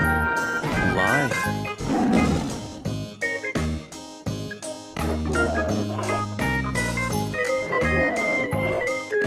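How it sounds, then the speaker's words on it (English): A lion roars several times in loud, rough bursts set against music and layered effects, with repeated calls spread through the stretch and no talking. "Lion."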